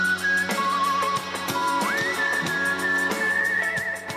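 A singer whistles a sustained, wavering melody over steady rhythmic backing music with a regular beat.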